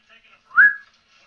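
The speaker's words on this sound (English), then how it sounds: "Whistle." Someone whistles a single short rising-then-level note, clear and close, standing alone against near silence.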